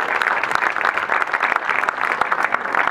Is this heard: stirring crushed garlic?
no